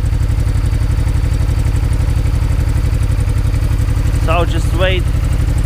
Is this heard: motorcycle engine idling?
yes